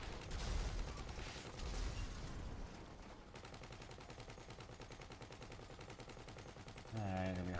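Rapid automatic gunfire in GTA 5, a dense stream of fast repeating shots that shifts into a steadier rattling burst, fairly loud, with a voice talking over it.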